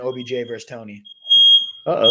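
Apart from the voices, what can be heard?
smoke alarm beeping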